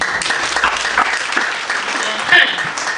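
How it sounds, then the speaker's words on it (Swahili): A seminar audience in Nairobi breaks into applause, a dense wash of clapping from many hands that rises briefly near the end, mixed with voices. "Hebu nipigieni makofi."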